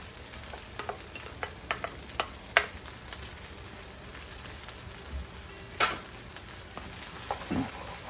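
Fried rice being stirred in a pan, a quiet steady sizzle with scattered clinks and scrapes of a utensil tossing the rice, close by and without talk.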